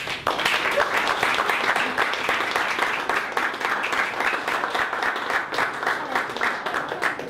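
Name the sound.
audience applause introducing a participant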